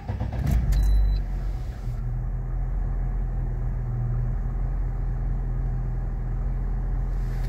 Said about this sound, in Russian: Запустил двигатель.